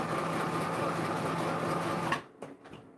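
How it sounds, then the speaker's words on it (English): A sewing machine stitching a craft item, a steady whirring drone that runs for about two seconds and then stops, followed by a few faint handling knocks. "So I sewed it just for fun."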